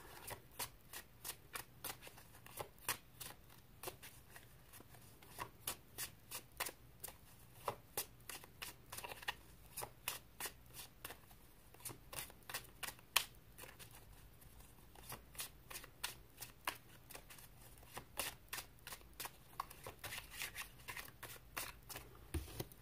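A tarot deck is handled, drawn and laid out on a table, giving a long run of crisp, rapid card flicks and riffles in quick rhythmic bursts with short pauses between them. The sound is close, with no voices.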